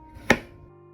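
A single crisp knife chop on a cutting board while ingredients are cut for a Korean beef and tofu soup, close and isolated, fading quickly into a quiet room.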